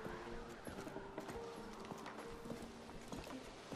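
A horse in the video game A Plague Tale: Requiem clip-clops at a steady walking pace, hooves close and fairly quiet over low game ambience, with no one talking.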